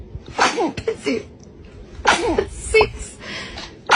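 A baby sneezes repeatedly, two main bursts with smaller catches between them, close and clear, with soft voices and gasps around them.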